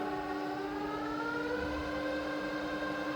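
Rebuilt Bridgeport milling machine head running at about 900 RPM, a steady smooth tonal whine with layered harmonics, quiet and constant throughout.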